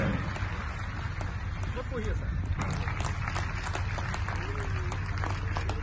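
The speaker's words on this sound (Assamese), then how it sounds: "সকলোৱে এডালি হাত চাপৰি মৰাত কোনো কৃপণালি নকৰে" Audience applause at an education ceremony in Sivasagar district, a continuous wash of clapping from a crowd, steady and fairly loud, with a voice faintly audible over it.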